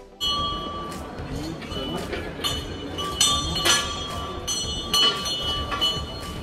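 A hand bell rung in a Kia car showroom after a vehicle booking: several close, loud metallic strikes with a lingering ringing tone over a busy indoor background.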